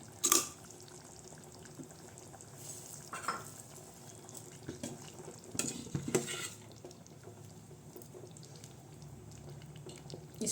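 Brinjal gravy bubbling in a pan while being stirred, a soft, quiet simmer with occasional scraping and clinking of a spoon against the pan, louder at the start and around the middle.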